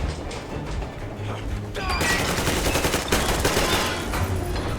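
Gunfire in Metro Exodus erupts halfway through, a dense rattle of rapid automatic shots and mechanical clatter that grows loud and sustained over low rumbling ambience, with no voices.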